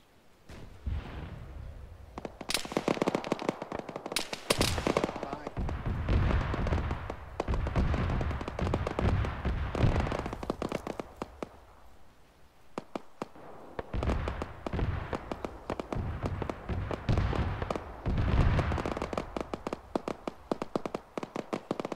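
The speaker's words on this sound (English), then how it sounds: "Two's taking fire from the north" Gunfire in Arma during a ShackTac squad operation, with dense crackling volleys of rifle shots, some sharp and near and others more distant, sustained across the whole stretch with only brief lulls.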